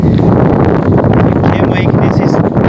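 Wind gusting hard against the microphone on a muddy truck route in Goiás, a loud, continuous buffeting roar while someone talks over it.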